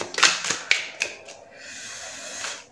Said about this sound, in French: je vais bien mélanger ce jeu